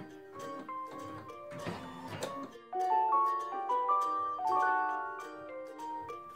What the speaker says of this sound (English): the machine will automatically cut the thread and raise the presser foot.